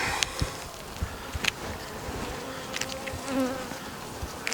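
Dense, steady buzzing of many honey bees close by, with occasional soft clicks and bumps of handling at the hive.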